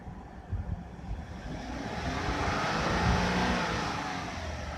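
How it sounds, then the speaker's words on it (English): A used car's engine is revved during an auction inspection, a broad steady roar that climbs gradually and peaks around the middle before easing slightly, heard close with no talking. "rev that thing real quick"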